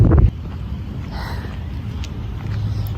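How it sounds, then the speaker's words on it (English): Strong wind buffets the microphone in a steady low roar, with a louder gust at the very start and no voices. "it is so windy today"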